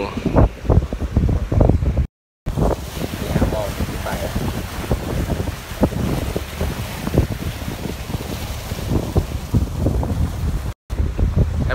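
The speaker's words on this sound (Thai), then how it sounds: "ก็ชวนมานั่งเรือยอทแฮปปี้ยอชนะครับ เรือฟอร์จูน่าลำใหม่ ลำนี้ครับ" A new Fortuna yacht cruises on the sea off Pattaya, wind buffeting the microphone in loud, gusty rushes over the wash of water and hull noise, with voices talking over parts of it.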